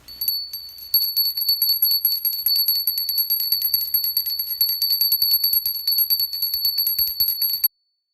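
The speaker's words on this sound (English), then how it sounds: "offering, and I will ring the bell around" A small hand bell rung steadily during a Diwali ritual for Lakshmi, giving a rapid, continuous clear ringing for about seven seconds that then stops abruptly; close and loud, with no talking.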